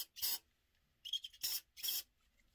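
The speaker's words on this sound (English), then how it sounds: "We're going to give the trimmers a little spray." Three short hissing bursts of lubricant sprayed onto the trimmers of a Limural electric shaver, close and fairly loud, separated by brief pauses with no talking.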